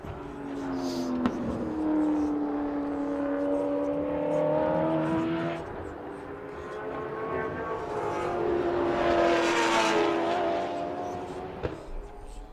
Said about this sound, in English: Let's have a listen as it underload coming up